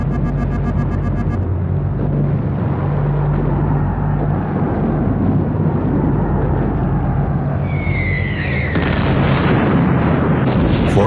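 Constant bombardment of the battleship USS New York (BB-34): heavy booming blasts and deep rumbling roll on without pause, loud and close, with a rising whistle-like streak near the end.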